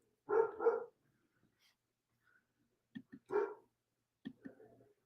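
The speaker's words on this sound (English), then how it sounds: "Sorry about the puppy." A puppy barks: two quick yaps, then after a pause a short burst of several barks and a few softer yips at the end, close by and loud against a quiet room.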